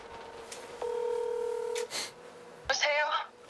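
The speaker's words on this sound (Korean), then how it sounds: "바로 여자친구에게 전화를 거는 일입니다." Two-tone telephone keypad dialing from a phone at home, a steady paired beep lasting about a second, followed by a short electronic chirp and a brief voice-like burst, heard close and clear over quiet room noise.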